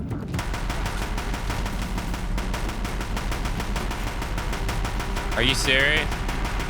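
Deathbringer machines in the Horizon Zero Dawn video game fire their guns in a steady, rapid barrage, a dense rattle running throughout while someone speaks over it.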